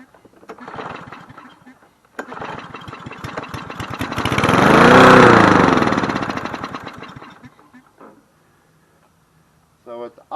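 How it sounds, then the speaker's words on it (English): Engine of a Cub Cadet SC300 lawn mower running at a high idle, swelling into a steady loud drone mid-clip and fading out, with talk and clatter before it. "So it's idling a little high."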